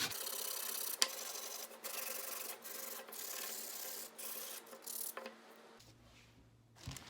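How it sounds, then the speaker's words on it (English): Sandpaper rubbing along the edges of a wooden board for string art, a steady close scratching rasp in repeated strokes with brief pauses, then quieter at the end. "So with your sandpaper, you're going to make sure that all of the edges have no slivers coming off"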